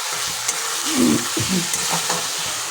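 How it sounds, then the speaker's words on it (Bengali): Tomato and peas sauté with spices and a little ghee in a wok, a soft steady sizzle with a few stirring scrapes, close and without talk. "এইবার এই মশলাগুলো দিয়ে আমি ভালো করে এই টমেটোটাকে কষিয়ে নেব"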